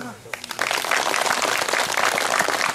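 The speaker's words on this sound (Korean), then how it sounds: "박수!" After a brief spoken introduction, an audience at a forestry managers' association lecture on fermentation breaks into applause, building quickly into steady, dense clapping that carries on to the end.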